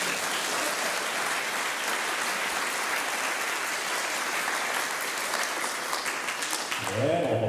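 Dense audience applause at a school's 160th anniversary performance event, steady and full for several seconds before fading out as a voice begins speaking at the end.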